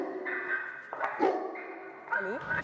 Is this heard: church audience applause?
no